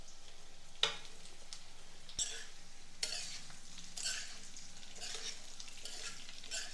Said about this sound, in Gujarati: રાઈ અને તલ સંતળાવા લાગે એટલે આપણે જે પાત્રાને કટ કરીને રાખ્યા છે તેને એડ કરી અને મિક્સ કરી